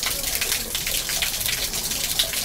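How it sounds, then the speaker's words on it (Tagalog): Tap water gushes steadily while two hands are washed, one at a time between the fingers and up to the knuckles, a close continuous splashing rush with a faint voice in the background. "Hugasan mo ng dalawang kamay."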